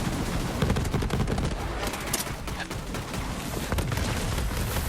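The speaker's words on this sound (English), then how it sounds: "Is my fucking clone shooting at me?" Rapid gunfire from a clone in the video game Borderlands 3: dense bursts of shots with booming impacts roll on continuously, loud and chaotic, with no pause.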